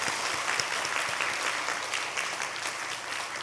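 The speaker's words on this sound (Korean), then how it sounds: "우리 박수로 또 환영하겠습니다" Sustained applause from a church congregation welcoming a young male music education student singer during a Sunday service, dense steady clapping filling the room for the whole stretch at moderate level.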